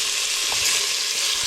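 Mustard seeds splutter in hot oil for a beef curry, giving a steady, loud, dense sizzle with faint pops throughout and no voices over it.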